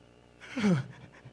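A voice mimics heavy panting, one short breathy gasp rising and falling within a second, close and fairly loud over a quiet background.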